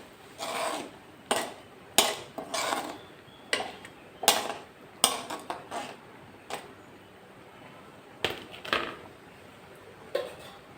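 Sardine curry with kudampuli being stirred in a pot, a spoon scraping and tapping against the metal in irregular short strokes, close and fairly quiet.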